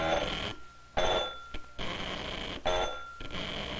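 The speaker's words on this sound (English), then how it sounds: "And Willie, you push yours and you watch that one vibrate." A buzzing electromagnet buzzer vibrates in bursts as a button is pushed and released, about three on-off pulses at moderate level with no talking.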